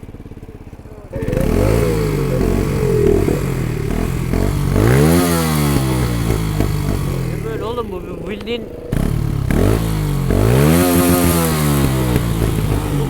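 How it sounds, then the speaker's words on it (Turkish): An SRK 125S motorcycle engine idles and revs repeatedly, rough and loud up close, with sputtering exhaust backfire pops; someone speaks briefly over it. "Benim motorun egzozu biraz fazla patlatıyor sanki ha."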